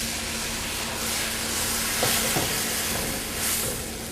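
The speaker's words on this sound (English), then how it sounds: "we're going to stir until this liquid is all the way absorbed" Risotto rice simmering with white wine in a pan, a continuous hissing sizzle with soft scraping stir strokes under it, steady and close, with no voices.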